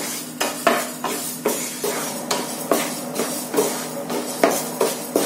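Urad dal dry roasting in a pan, stirred in a steady rhythm of scraping strokes with soft rattling of the lentils, close and alone with no talk.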